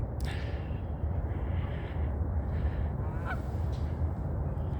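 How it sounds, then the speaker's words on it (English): A flock of birds calls from a lake preserve on a morning walk, their honking voices blending into a steady outdoor wash with a few clearer calls rising above, heard at a moderate distance without talk. "these birds will be taking flight like the other two groups there"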